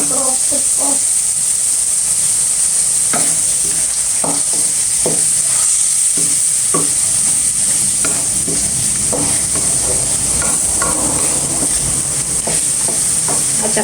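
Spicy field frog stir-fries in a pan: a loud, continuous hissing sizzle runs throughout, broken by intermittent spatula scrapes and knocks, close up.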